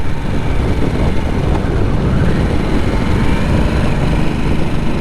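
A 2024 Harley-Davidson Nightster Special RH975S hums along on a demo ride, a steady whirring engine note blended with loud wind rush that continues without a break.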